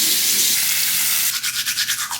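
A toothbrush scrubs teeth up close, first a steady hissing scrub, then a series of rhythmic back-and-forth strokes in quick regular pulses.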